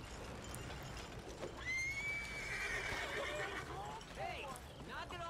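In the video game Red Dead Redemption 2, a horse gives a long, loud whinny over steady clip-clop hoofbeats and ambient game noise in the city of Saint Denis, while someone speaks.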